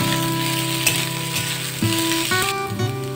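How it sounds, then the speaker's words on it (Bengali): Potatoes fry in hot oil in a pan until reddish, with a steady, close sizzle and crackle that carries through without pause. "আলুগুলোকে একটু লাল লাল করে ভেজে নেব।"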